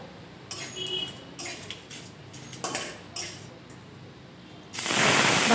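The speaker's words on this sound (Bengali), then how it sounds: "এখন সবগুলো উপকরণ একটু নেড়েচেড়ে ভেজে নিব।" Curry leaves, whole and dried chillies and dal being stirred and fried in a pan give off soft, intermittent scraping and crackling spatters, with a louder hiss of sizzling at the very end.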